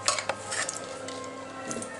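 Mixer jar being picked up and set down in a home kitchen while making carrot juice, a few light clinks and knocks of the jar against a counter, quiet and brief.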